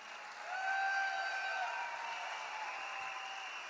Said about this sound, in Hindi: जितने भी डीपीज हैं, इनके लिए जबरदस्त तालियां।